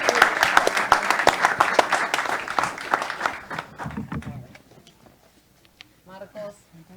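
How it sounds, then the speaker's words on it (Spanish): Audience applause at an agricultural market talk, a dense burst of clapping for the first three seconds that thins out and fades, followed by scattered voices talking. "un aplauso también para Guille, ¿por qué no?"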